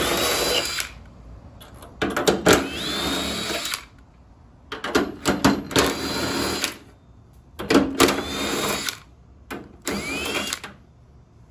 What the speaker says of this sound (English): let me go ahead and remove all these nuts on these bolts